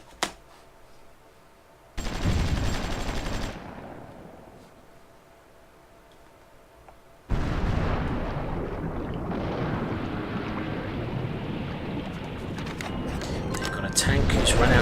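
Air force strike in the strategy game Supreme Ruler Ultimate: two bursts of loud, dense rumbling blasts and gunfire, a short one early and a longer sustained barrage building toward the end, with quieter gaps between.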